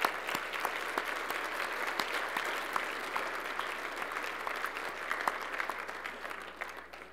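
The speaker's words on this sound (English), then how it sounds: "I'd like to give these people a round of applause" Applause from the audience at an IGSHPA president handover event, a steady crowd clapping with distinct sharp individual claps standing out, fairly even and then tapering slightly toward the end.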